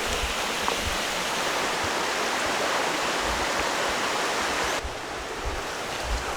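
A forest stream flows steadily on its way up toward a waterfall, a loud, continuous broadband rush of water that stays even for most of the stretch before dropping slightly near the end.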